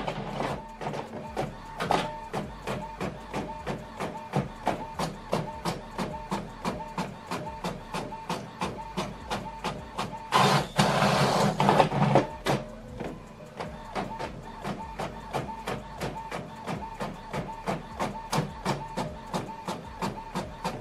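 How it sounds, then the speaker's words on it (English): Epson WF all-in-one inkjet printer printing a double-sided page, a steady rhythmic mechanical clicking and whirring of the print head shuttling back and forth, with a louder burst of feed-roller grinding midway, heard close up without talk. "So we are printing this double-sided."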